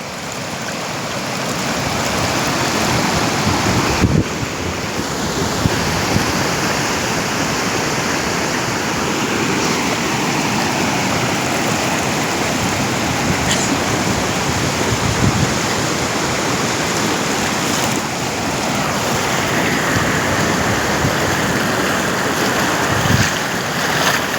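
A powerful, steady roar of a flooded river after heavy rain, constant and loud in full flow at the edge of a village, with wind buffeting the microphone.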